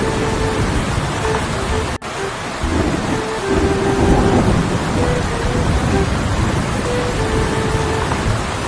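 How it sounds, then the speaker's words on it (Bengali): Heavy rain hisses steadily throughout, with a sharp crack near the start and rumbling swells of a thunderstorm underneath, close and loud. "আর বাইরে শুরু হয়ে গেল প্রচন্ড ঝড় বৃষ্টি"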